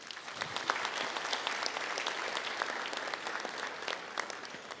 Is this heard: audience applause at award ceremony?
yes